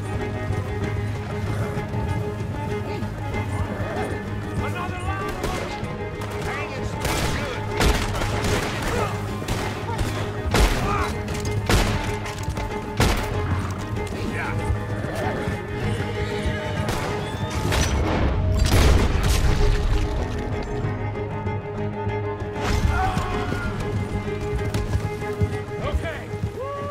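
Horses galloping with rapid clip-clop hooves while gunshots crack repeatedly in Red Dead Redemption 2, a dense, continuous chase scene with a rider talking over the noise.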